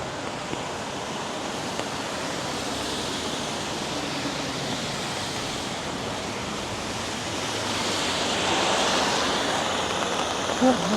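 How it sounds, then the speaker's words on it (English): Water drips from leaves after rain on a downtown Toronto street, forming a steady, hissing wash of drops and spatter that swells slightly toward the end, with a few distinct taps near the close. "Although lots of water dripping off the leaves here."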